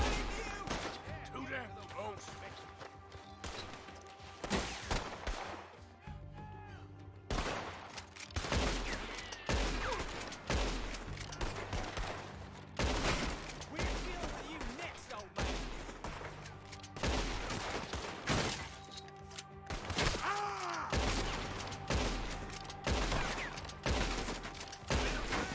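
Gunfire in Red Dead Redemption 2, with repeated sharp shots and bursts cracking in irregular clusters over a game soundtrack and background ambience, and someone talks at points.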